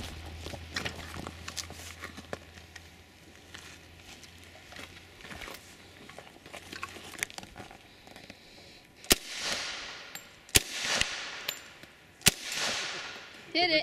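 Gunfire from rounds shot outdoors with a firearm: sharp, distant-sounding cracks spaced a second or two apart over a quiet background, with a few louder reports toward the end.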